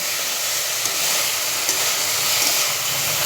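Pre-fried potato and cauliflower are stirred into spices in a pan, giving a steady broad hiss of cooking with faint stirring ticks, close and even throughout.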